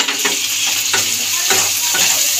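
Turmeric and chili powders sauté in hot oil in a pan for a Bengali kalbos fish curry, a steady bright sizzle punctuated by several rhythmic scrapes of a spatula stirring.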